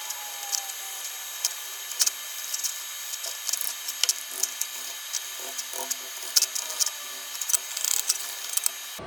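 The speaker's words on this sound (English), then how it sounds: "I'm going to go ahead and brush all these joints real quick, clean them up" A wire brush scrubs freshly welded aluminum joints clean, giving repeated short scratchy strokes in uneven bursts, close and fairly quiet, with no talking.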